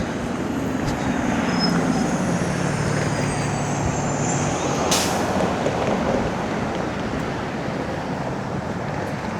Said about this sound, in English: There's a 94 Wellesley bus.